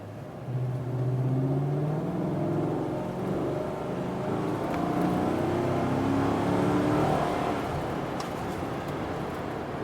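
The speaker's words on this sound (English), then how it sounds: "that intake's making a lot more noise. It sounds a lot deeper." A 2014-or-later Chevrolet Silverado pulling at quarter throttle with an aftermarket green air filter, a steady, deep intake roar and engine drone rising in pitch as the truck accelerates, heard from inside the cab without speech.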